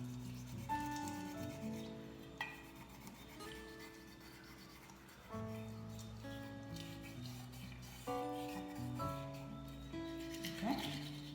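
A copper bottle lid is scrubbed with lemon juice, giving soft, steady rubbing strokes in repeated close passes with faint clinks, quiet and continuous.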